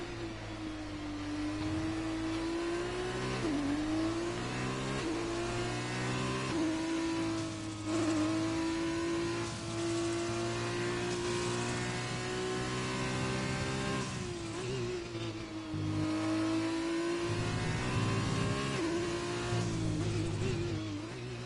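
A Formula 2 race car engine at the USA round screams at high revs with steady harmonic tones, pitch dipping briefly as it shifts or brakes, then climbing again; loud and continuous throughout, no voices.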